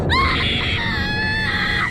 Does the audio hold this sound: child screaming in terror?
yes